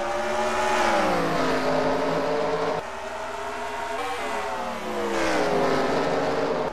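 Several rally car engines race at full throttle around the Ice Planet track in a racing video game, a loud continuous whine rising and falling with gear shifts and revs, with no voices over it.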